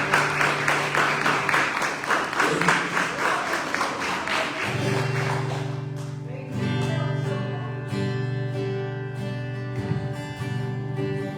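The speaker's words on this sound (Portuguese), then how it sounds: "recebam o ministério do louvor com as palmas do Senhor" Church congregation clapping hands in rhythm during worship, loud and steady at first, then giving way to sustained music with held tones.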